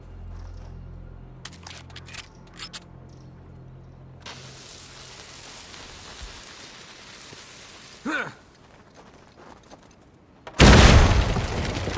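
A dynamite blast in Uncharted 4: A Thief's End arrives as a sudden loud, wide burst near the end, after quieter game noise with a few clicks and a short whoosh.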